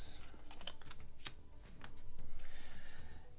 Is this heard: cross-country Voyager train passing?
no